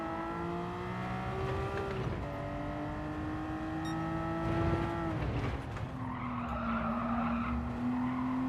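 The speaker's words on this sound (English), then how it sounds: "Cars slid around there a little bit in there." Tires squeal in long, wavering skids as a race car slides through corners in Gran Turismo 7, with engine tones rising and falling beneath the screech, loud and continuous.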